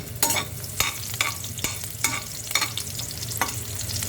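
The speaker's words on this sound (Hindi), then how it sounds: "लहसुन हम गर्म करेंगे।" Chopped garlic heating in a pan for prawn noodles sizzles steadily up close, with a spatula stirring and scraping through it in repeated sharp strokes.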